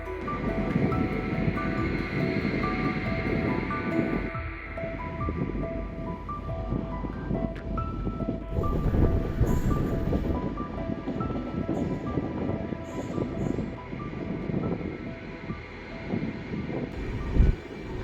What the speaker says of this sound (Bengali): এই দুই পাশে জঙ্গলের মধ্যে দিয়ে কিন্তু ট্রেনটা যাচ্ছে